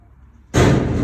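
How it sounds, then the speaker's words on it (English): Workers across the street throw big boulders into a garbage can, making a sudden loud crashing impact that breaks a quiet moment and rings on briefly. "that annoying sound is they're guys throwing big old boulders into a garbage can"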